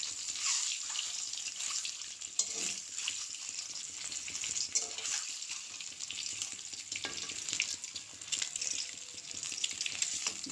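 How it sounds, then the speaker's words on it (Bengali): Eggs frying in a pan, a quiet but continuous sizzle with irregular crackling bursts and light stirring, nobody talking. "ডিম ভাজা হয়ে গেছে"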